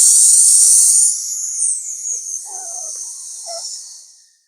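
During a qigong exercise, a breath is let out as a strong, steady hiss that fades after about a second. Softer breathy sounds follow and die away.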